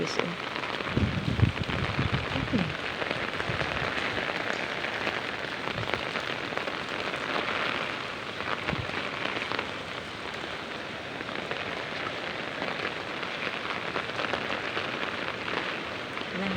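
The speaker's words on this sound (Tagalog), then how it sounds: "walang tigil sa ulan kagabi pa to walang tigil sa ulan" Steady, dense rain from a typhoon in Cavite, Philippines pours down without a break, a continuous hiss of drops on surfaces with occasional heavier patters.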